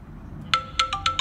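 A phone ringtone, set off by a smart bracelet's find-phone function, chimes up close in five quick bright electronic beeps after a short quiet moment.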